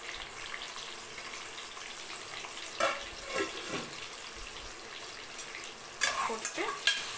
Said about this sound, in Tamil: போட்டு நல்லா வெங்காயம் வந்து பொன்னிறமாக வச்சு நல்லா பொரிய விடணும்.